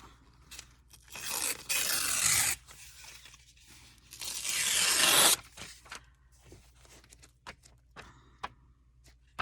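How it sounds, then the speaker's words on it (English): Paper pages torn out of a travelers notebook, two long ripping tears in separate bursts, followed by crinkling, rustling and light handling of the paper, close and fairly loud with no speech. "We might have to tear that out"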